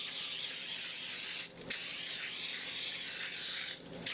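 Cooking spray sprayed generously onto a hot pan for quesadillas, a close, steady aerosol hiss in two bursts, the first long and the second brief after a short pause, with no talk.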